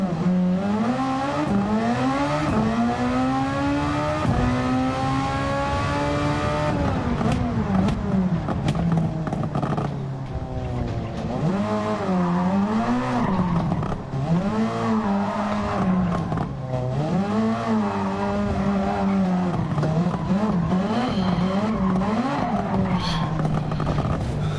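Race car in Gran Turismo 7 at Tokyo Expressway launching from a standstill, the engine climbing steadily in pitch, then revving and shifting through repeated rising sweeps, loud and continuous throughout.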